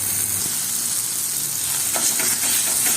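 Food sizzles and crackles in a pan with a cube of butter while being stirred, giving a steady close frying hiss with a few soft scraping stir sounds near the end.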